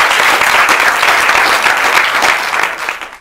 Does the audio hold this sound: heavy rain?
no